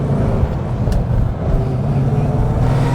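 A Rover 3500S P6 car driving with its window open, a steady low engine rumble and road noise filling the cabin throughout, loud and continuous with no talk over it.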